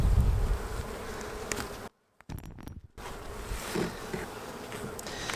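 Honeybees buzz densely and close around an opened hive during hive splitting, a continuous droning swarm broken briefly by a second or so of near-silence.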